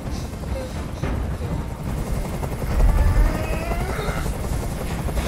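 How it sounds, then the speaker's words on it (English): A helicopter's rotor in Detroit: Become Human chops steadily throughout, a dense low thumping drone with a brief louder swell partway through, no voices. "Tell that helicopter to get out of here."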